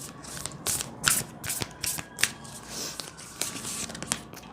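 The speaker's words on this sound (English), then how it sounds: "I'll be pulling 3 oracle cards from the Work Your Light oracle." Oracle cards from the Work Your Light deck being shuffled, a series of crisp riffling bursts and soft paper slaps in an uneven rhythm, close and fairly quiet.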